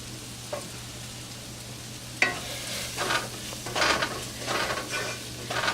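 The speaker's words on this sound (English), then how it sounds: "We can stir till the raw taste of the masala is gone and oil separate from the masala." Ground garam masala fries in coconut oil for a Kerala-style chicken roast, with several scraping stir strokes clearly heard over a low, steady sizzle and no voices.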